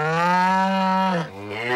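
A cartoon cow gives a long, loud, close moo that dips briefly and then rises into a second shorter moo, heard alone without talk.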